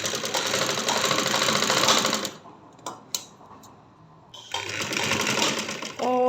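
A sewing machine stitches a one-year-old baby girl's gharara fabric in close, steady bursts of rapid running, pausing briefly in the middle before resuming.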